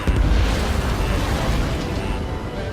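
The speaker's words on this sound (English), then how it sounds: "Strider 3 launching missile." Missile launch from a fighter jet in the Ace Combat 7 flight game, a loud continuous rushing roar and rumbling blast with heavy low-end, filling the whole moment without a break.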